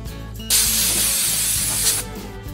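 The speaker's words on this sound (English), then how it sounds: "I finished sanding it with 150 on the sanding block" Sandpaper on a sanding block rubbed across wood, a close, steady raspy hiss lasting about a second and a half with quieter background before and after.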